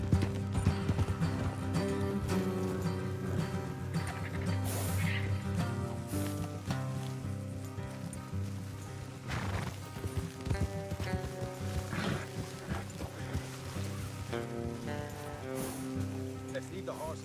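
Horses' hooves clip-clop in Red Dead Redemption 2, a rhythmic plodding under a game music score and rain-like patter, with an occasional whinny and voices speaking at moments.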